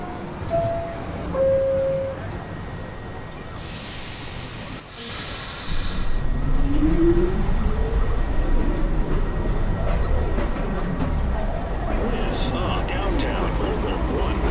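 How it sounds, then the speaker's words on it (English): A New York City subway 1 train pulls out of a station, a low rumble building from the platform after a few seconds of quieter station noise, with people talking nearby. "Train departing."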